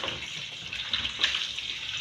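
Soursop (graviola) leaves are rinsed under a running tap, a steady, soft gush of water splashing continuously and close by, with no voices.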